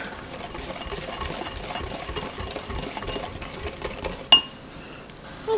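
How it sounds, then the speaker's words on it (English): A whisk rapidly blending dry rub spices with brown sugar in a bowl for slow cooker beef short ribs, a steady fast scraping rattle that ends in a sharp knock. "I'm just going to take a whisk and blend this all together."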